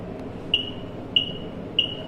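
A DC resistance meter, model SME 1402, gives three short, high electronic beeps at a steady pace against a quiet background hum, signalling a good reading with a 1k resistor connected.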